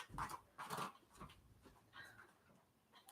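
A dog named Bernie whimpers indoors, a few soft high whines and breathy sounds, close and quiet.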